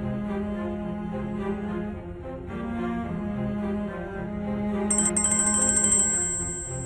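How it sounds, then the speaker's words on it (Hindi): A phone ringing in a dramatic scene, a high repeating electronic tone entering near the end over sustained background music. "सलीम का फोन है"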